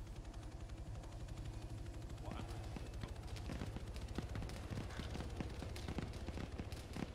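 Gunfire crackles in the ARMA 3 military shooter, coming as a rapid scatter of sharp shots that sound distant and faint. The shots start thin, then grow denser from about two seconds on over a low rumbling background.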